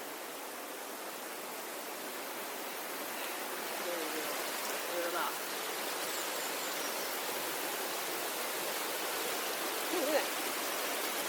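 A small stream tumbling over a low drop, called a stream fall, at Thornton-le-Dale: continuous rushing, splashing water noise heard close by throughout, with someone briefly speaking over it.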